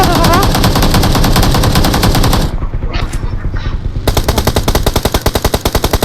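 Rapid automatic gunfire in a mobile shooter game, loud dense bursts that stop for a moment and then resume as steady repeated shots.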